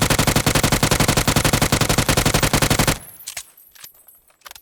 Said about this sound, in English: I'm going to shoot and hold a pattern over here.